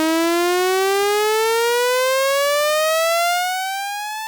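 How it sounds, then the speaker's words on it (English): A single sustained Serum software synthesizer note with a rising pitch modulation, a bright buzzy tone sweeping steadily upward like a siren for about four seconds, loud and alone before it fades slightly. "I'm going to play Serum."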